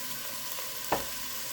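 Chunks of chuck beef sizzling steadily in a hot pan, with a short scrape of a stirring spoon about midway through the short stretch of frying.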